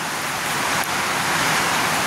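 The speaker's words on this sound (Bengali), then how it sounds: "বৃষ্টি হচ্ছে, অনেক জোরে জোরে বৃষ্টি হচ্ছে" Heavy rain falls in a dense, even roar of broadband hiss, steady and close for the whole stretch.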